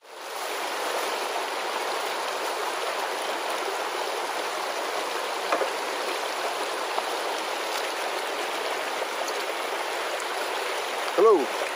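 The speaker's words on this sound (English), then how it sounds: "It's a beautiful stream up here." Livingston Creek in Mountain View, Arkansas, flows in a steady, close, continuous rush of water that fills the whole stretch, with a brief faint chirp near the end and no talking.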